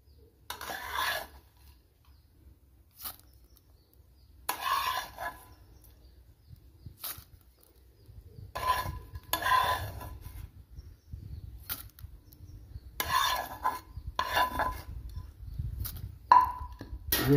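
A tempering is added to an Odia yogurt and eggplant dish (dahi baigana) and stirred, giving quiet, intermittent clinks and scrapes of a utensil against the pot with short pauses between, and no talk.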